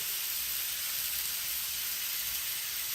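A steak sears in a hot pan with a steady, even sizzle and hiss that holds at constant loudness throughout, with no voices over it.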